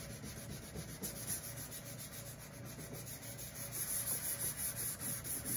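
A sanding block rubs along the edge of a cured epoxy pour in quiet, steady scraping strokes that grow slightly louder toward the end, with no voices.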